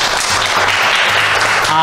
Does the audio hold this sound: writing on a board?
no